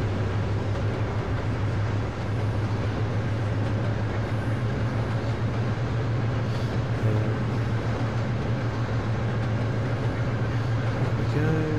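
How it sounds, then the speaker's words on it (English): A train in the Trainz railway simulator rolls along steadily with a constant low engine drone and rumble throughout, even and unbroken, with no voices. "The train movement's quite nice."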